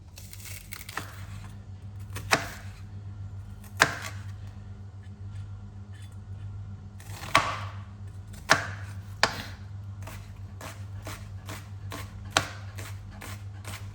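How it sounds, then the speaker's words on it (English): An onion being chopped in half and peeled on a cutting board: a series of sharp, distinct knife thuds spaced irregularly, with soft crinkling of papery outer skin between cuts, close and fairly quiet over a steady low hum. "take off the top, remove the hairs from the root and chop it in half and take off the outer layer"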